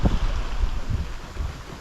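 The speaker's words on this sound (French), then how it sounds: "On a éteint le moteur et on avance à voile maintenant" Sailboat under sail with its engine switched off, on a passage toward Canada; steady wind buffeting and rushing water with low gusty rumbles fill the whole stretch, close and fairly loud, with no voices.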